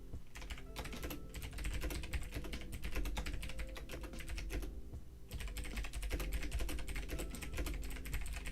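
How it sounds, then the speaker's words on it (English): Rapid typing on a computer keyboard during a live stock market stream, a fast, continuous clatter of keystrokes close by with one brief pause, no talk. "Sorry guys for the typing."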